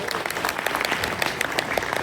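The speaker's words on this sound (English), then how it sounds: "Everybody, big round of applause for Sha for an introduction there." Loud, sustained audience applause fills a convention Q&A panel with Peter Davison and Janet Fielding, dense steady clapping from a large crowd with no pauses.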